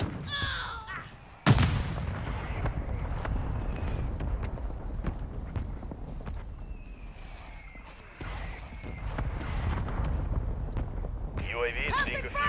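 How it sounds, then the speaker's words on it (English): Mortar strike explosions in the Modern Warfare video game: a sharp loud blast followed by rumbling booms and battle noise, with in-game radio voices talking over the top. "Hostiles launched a mortar strike."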